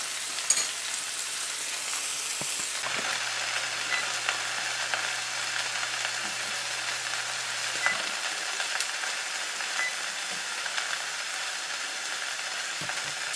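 A steak grilling in a pan while being basted with butter, giving a loud, continuous close-up sizzle and crackle with occasional spatter pops that hold steady throughout.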